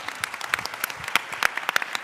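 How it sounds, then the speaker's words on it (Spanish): A small audience at an edtech education panel gives the panelists a brief, scattered round of applause, mostly distinct individual claps at an irregular rhythm rather than a full ovation. "Quiero un aplauso para mis panelistas"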